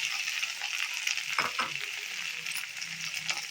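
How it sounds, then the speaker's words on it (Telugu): Okra pieces frying in hot tempering oil, a dense close sizzle with a brief stir or clatter partway through, no talking. "తాలింపు మనం బెండకాయ ముక్కలు వేసేసుకున్నాము."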